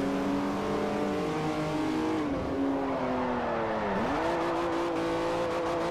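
In Forza Motorsport 4, a Class B race car engine revs loudly and continuously, its whining pitch dipping and rising through gear changes while the car races around a track.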